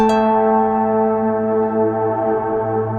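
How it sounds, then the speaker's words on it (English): A harp runs through a reverb effect alongside a Moog Messenger synth setup, a plucked attack blooming into a long sustained, washy harmonic tail that hangs steadily without fading. "And then I'm gonna run my harp through this reverb."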